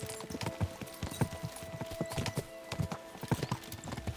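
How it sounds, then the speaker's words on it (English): Horses gallop in the medieval video game Kingdom Come: Deliverance 2, with rapid, continuous hoofbeats pounding in a quick uneven rhythm at moderate volume and no talking. "We should spur the horses on."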